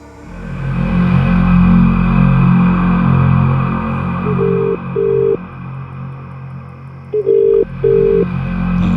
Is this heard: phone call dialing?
yes